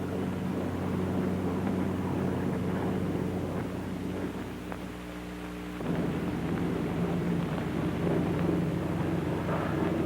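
Republic P-47 fighter aircraft in flight, shown in 1943 training footage, its engine a steady loud drone throughout with a brief dip in level near the middle before surging back.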